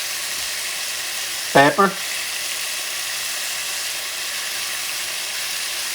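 Alligator stew ingredients sizzle and caramelize in a pan over medium-high heat, a steady, loud frying hiss that runs throughout, briefly broken by a short spoken word.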